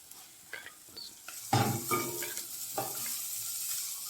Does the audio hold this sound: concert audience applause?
no